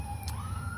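An emergency vehicle siren passes outside in the evening, a faint steady wailing tone heard at a distance through a short, quiet moment with low background rumble.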